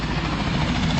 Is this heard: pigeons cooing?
no